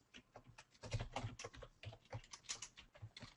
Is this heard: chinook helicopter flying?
no